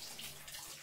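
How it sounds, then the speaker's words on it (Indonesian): Running water from a tap pours steadily over medicinal plants being rinsed clean, a constant close hiss and splash with no voices. "Bersihkan dahulu kawan tanaman obat ini pada air yang mengalir."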